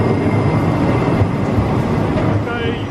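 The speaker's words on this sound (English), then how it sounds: "This is our tram to take us into the town centre." A city tram in Bratislava rumbles loudly and close by, a continuous heavy rolling roar of rail noise with a faint squeal near the end.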